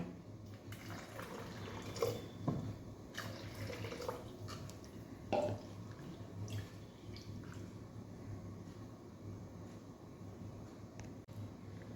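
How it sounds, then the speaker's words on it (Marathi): Water is poured into a bowl of rinsed sago pearls with soft splashing and trickling, a few brief louder splashes over a quiet, steady background. "आता आपण पाणी घालून भिजत ठेवूया"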